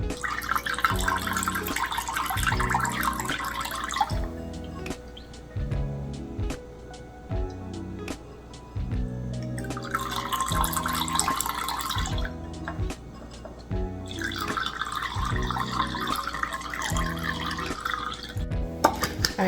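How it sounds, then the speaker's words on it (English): Strained ginger shot juice trickles and splashes into a container in uneven pours, with gaps of quieter dripping between three louder bursts of flow, close and clear. "I'm going to be pouring that in this container so I can save it in the fridge"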